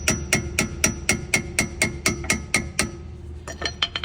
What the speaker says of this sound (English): I use this hammer and hit, gently hit this out a little bit